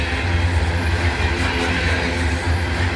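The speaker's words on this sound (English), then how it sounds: "SCWS coal train." SCWS coal train rolling past at close range in Abbeville, a loud, continuous rumble of railcars and wheels with a high squeal rising briefly twice.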